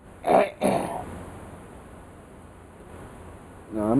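A person coughs after smoking: two sharp, close coughs in quick succession, a stretch of quiet hiss, then a rough throat-clearing rasp at the end.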